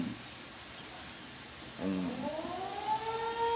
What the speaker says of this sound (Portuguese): Deixa eu dar um pause aqui por causa da sirene